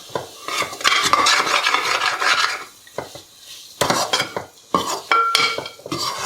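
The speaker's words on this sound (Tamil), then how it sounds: "இதையும் சிம்லே வச்சு ஒரு 2 நிமிஷம் நல்லா வதக்கணும்" Chili powder and turmeric are sautéed in a pan for prawn biryani, with bursts of a spoon scraping and stirring against the metal over a soft sizzle, in irregular close strokes separated by brief pauses.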